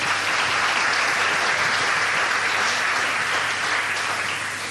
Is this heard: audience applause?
yes